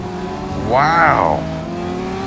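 A Pagani Utopia's engine surges and swells in Gran Turismo, rising in pitch then dropping away over a steady engine drone, while a man exclaims over it.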